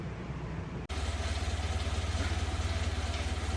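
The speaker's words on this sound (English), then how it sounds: "Just started it up for the first time with the exhaust repaired" A Renault 5 GT Turbo car engine idles close by with a steady, even low rumble and regular pulsing, starting abruptly after a brief cut and continuing smoothly, just after its exhaust was repaired.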